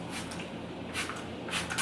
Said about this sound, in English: Just spraying with water.